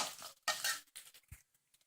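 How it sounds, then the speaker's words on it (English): Green chilies and onions stirred in a pan for a North Indian ladies finger curry, with short scraping and clinking strokes of a utensil against metal, close and fairly quiet, separated by brief pauses and a soft thud. "give it a stir until the onions are golden brown"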